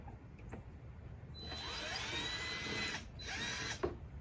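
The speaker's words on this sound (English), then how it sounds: "Now we're going to take a Phillips head screwdriver to loosen up the clamps on the factory resonator." A power driver spins rapidly against the exhaust resonator clamps on a Toyota 4Runner, giving two close whirring bursts with a ratcheting edge, quiet between.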